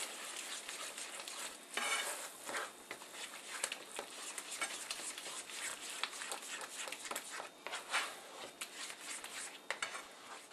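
Ingredients for smoked mac and cheese are mixed together, with continuous scraping and clattering of a utensil against a bowl and a few louder knocks. No one speaks.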